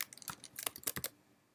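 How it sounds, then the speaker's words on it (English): A quick burst of typing on a computer keyboard enters a class name into a programming tool's search box, with close, rapid clicking keystrokes that stop abruptly. "you just type the name of the class you're looking for"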